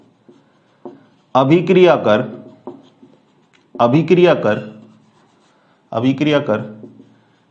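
Chalk or marker scratching on a board during a chemistry lesson comes in three bursts of busy writing strokes, each separated by pauses where the teacher speaks briefly.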